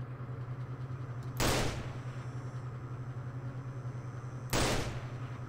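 Two sharp, loud gunshots in the video game STALKER, spaced about three seconds apart, each with a short decaying tail over a steady low mechanical hum.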